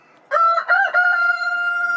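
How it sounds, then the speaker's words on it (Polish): A rooster crows loudly and close by near a chicken coop, one full drawn-out crow with a rising start and long sustained end, standing alone over a quiet background. "Cicho tam, kurki, cicho!"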